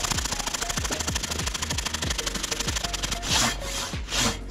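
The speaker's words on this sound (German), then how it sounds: "welche Säge ist das? Das ist die Silky Katana Boy 650." A Silky Katana Boy 650 hand saw cuts through wood outdoors, its steady rhythmic strokes rasping close and loud, about two per second, before the cut ends in a couple of rougher, louder pulls.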